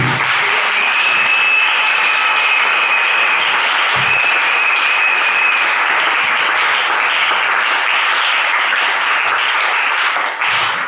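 A church congregation claps steadily and loudly for about eleven seconds, a dense sustained roar of many hands with no voices standing out.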